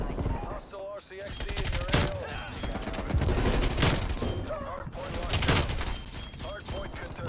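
Rapid bursts of Groza assault rifle fire ring out in a Call of Duty: Black Ops Cold War match, loud and close, with clipped game sounds and a voice mixed in between the volleys.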